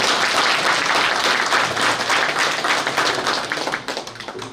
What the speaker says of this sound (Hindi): इसके लिए एक बार फिर से जोरदार तालियां के साथ डॉक्टर साहब के स्वागत होनी चाहिए।